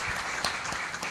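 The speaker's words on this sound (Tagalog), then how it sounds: "magbigay ng pinakamataas na papuri sa pamagitan po ng palakpak sa ating Panginoong Diyos" Congregation applauding during a Sunday worship service, steady broadband clapping across the short moment with a brief louder swell midway, with no talk over it.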